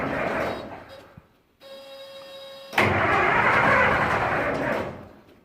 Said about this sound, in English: Cranks good and then it quits.